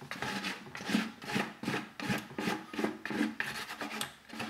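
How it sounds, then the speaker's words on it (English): Hand scraper rasping against a surface while gathering pitfire ash for a pottery glaze, a steady series of close, scratchy strokes about every half second with no talk. "And maybe you would even need this scraper."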